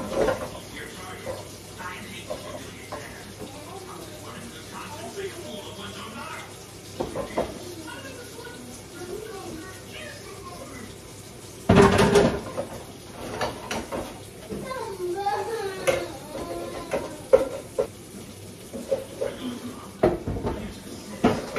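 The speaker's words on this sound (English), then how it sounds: "I'm just about to wash dishes and clean up a little bit." Dishes clink and a kitchen faucet runs while dishes are washed and rinsed during home cooking cleanup, with a loud burst of running water midway and scattered clatter under occasional talk.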